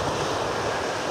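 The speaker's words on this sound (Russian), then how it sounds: "Единственное, что вот есть течение, волна." Sea waves wash onto a beach near Anapa under gusting wind, a loud, steady rushing hiss buffeting the microphone, with no voices in this brief stretch.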